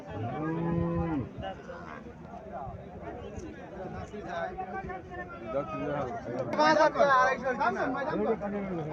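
Cattle at a livestock market in Cumilla, among large cows and Holstein Friesian heifers, give a long, loud, deep moo near the start, with market chatter and crowd noise running beneath throughout.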